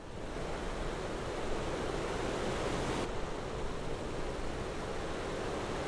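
Water rushes steadily as a Latecoere 631 flying boat splashes along the surface in MSFS 2024, a loud continuous wash of spray and surf noise with no break.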